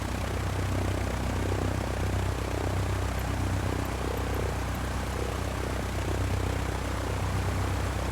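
A Cessna's propeller engine drones steadily and loudly while taxiing in a flight simulator game, a constant dense hum filling the whole stretch with no pauses.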